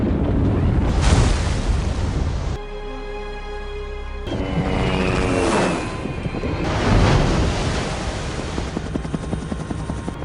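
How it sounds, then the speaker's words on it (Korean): A nuclear bomb detonating underwater at the end of an action film: a loud, sustained roar and rumble with a deep low-end surge, swelling again midway, mixed with blowing, windy turbulence and no talk. "바닷속에서 폭발하는 핵폭탄."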